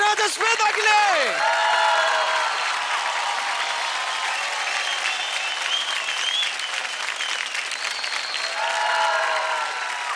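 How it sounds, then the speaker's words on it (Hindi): Loud, sustained audience applause on the stage of a televised Indian dance competition, steady dense clapping filling the hall with a few cheers mixed in, with an announcer's voice briefly rising over it at the start. "Come on guys, जोरदार ताली हो जाए"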